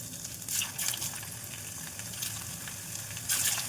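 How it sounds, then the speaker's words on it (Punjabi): Potato chips dropped into hot oil heated over a low flame, producing a steady close sizzling and bubbling hiss with a few louder surges, no voices. "ਹੁਣ ਆਪਾਂ ਇਹਦੇ ਵਿੱਚ ਛੱਡਾਂਗੇ ਚਿਪਸ"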